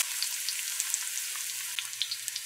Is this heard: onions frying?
yes